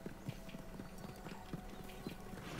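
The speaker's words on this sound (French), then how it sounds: "vous reprenez votre cheval, vous vous éloignez" Horse hooves clip-clopping in a steady walking rhythm in the video game Red Dead Redemption 2, moderately close and fairly quiet over a soft background, with no speech.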